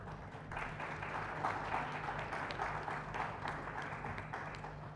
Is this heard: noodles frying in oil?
no